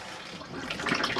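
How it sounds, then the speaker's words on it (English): An Adria Coral Supreme 670 SL camper van toilet flushes after its button is pressed, a rushing, hissing stream of water that builds and grows louder over a second, close by. "So to operate your toilet, to flush you'd press the blue button at the back,"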